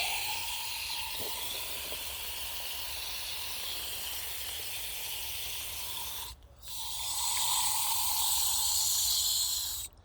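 A handheld paint sprayer being cleaned blasts a loud, continuous hiss up close, cuts out briefly, then resumes spraying just as strongly.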